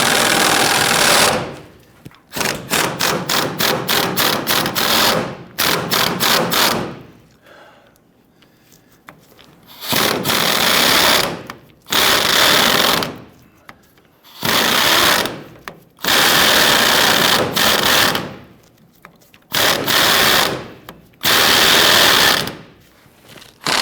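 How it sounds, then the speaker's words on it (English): A 14mm socket on an extension, likely on a power driver, spins a bolt under a 2007-2021 Toyota Tundra 4.7L V8 in repeated loud whirring bursts, some short and rapid, some longer, with pauses, close by and without speech. "I can use my 14mm and an extension and get up inside here."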